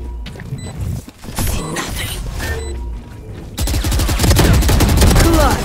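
Bursts of gunfire in the Valorant shooter game on the Ascent map: rapid automatic fire in sharp volleys, loud and close, with a denser sustained burst in the second half and occasional game effects between.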